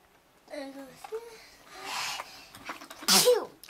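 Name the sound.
sneeze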